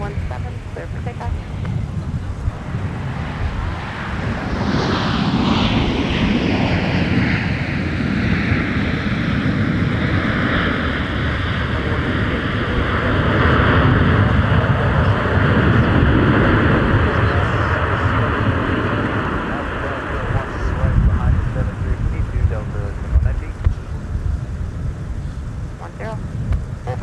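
A Delta airliner taking off from runway 17 at Minneapolis–St. Paul Airport in winter, its engines swelling into a long rising roar with a falling whine, heard at a distance under wind buffeting on the microphone.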